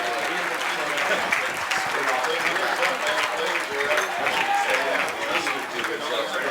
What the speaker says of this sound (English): Great round of applause here by the fans.